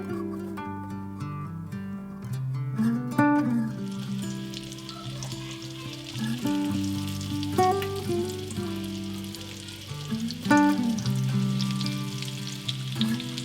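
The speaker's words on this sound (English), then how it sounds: "So I even save all of the fat off of my bacon, and I use that for frying" Bacon fat sizzles steadily in a pan as food fries, a dense crackling hiss that swells and settles over about thirteen seconds, with tonal music playing prominently underneath.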